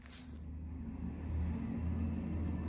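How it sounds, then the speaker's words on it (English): Trucks rumble past outside at a distance, a low, faint engine drone that swells gradually and stays steady, with no talk over it. "A lot of trucks going by today."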